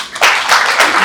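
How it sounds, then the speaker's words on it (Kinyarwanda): A crowd breaks into dense, loud applause for a visiting church leader at a gathering, a continuous burst of many hands clapping close by. "bikumera amashyi Imana yamushikanye impore"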